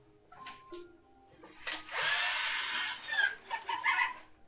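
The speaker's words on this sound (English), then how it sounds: "So we'll drill a hole with our pilot bit for that." A power drill boring a pilot hole with a 1.5mm bit, a short high-pitched whirring burst of about a second, followed by fainter tool sounds and clucking-like squeaks.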